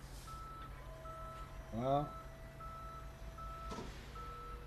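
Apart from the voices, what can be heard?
tow truck reversing beeps in Police Simulator video game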